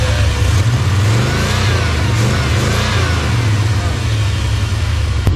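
A car engine idles loudly nearby and rises and falls a few times as it is revved, rough and uneven in tone, with a person talking over it at times.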